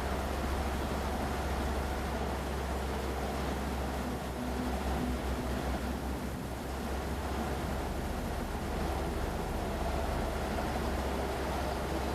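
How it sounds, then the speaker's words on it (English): Constant broadband roar of Interstate 390 highway traffic beside the Erie Canal, steady and moderately loud, with a low rumble underneath and no distinct events. "Interstate 390 runs over and alongside the canal. It's very noisy."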